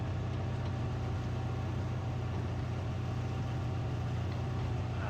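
Panzerjäger I tank destroyer engine in War Thunder, a steady low droning rumble held at high revs throughout, continuous and even with no talk.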